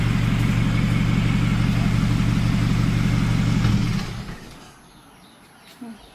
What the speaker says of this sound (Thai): ดับเครื่องสักที